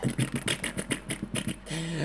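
A human voice imitates a boat engine with a rapid series of rhythmic, buzzing pulses, ending in a steadier drone. It is close and fairly quiet, with no other speech.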